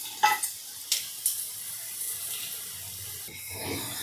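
Onions frying in a pan for a beetroot and carrot chapati roll give a steady, soft sizzling hiss with a few sharp crackles near the start. No one talks.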